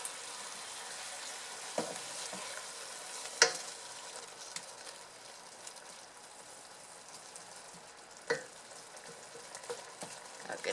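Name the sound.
sofrito sautéing in a pan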